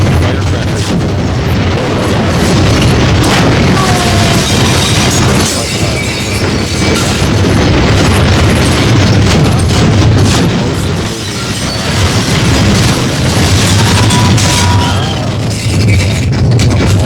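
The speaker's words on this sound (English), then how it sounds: "Firecrackers are going" Dense, loud bursts and booms crackle continuously, overlapping pops and blasts with no pause, sounding close and chaotic.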